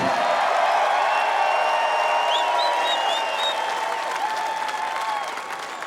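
A large crowd at the 2021 NHL Expansion Draft fills the space with sustained loud noise, dense and continuous, fading slightly toward the end.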